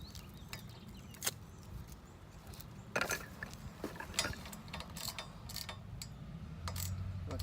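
Bolts on a kids' 800-watt electric ATV being tightened with a ratchet: quiet, irregular clicks and metallic ticks over a low background hum, close by with no talking.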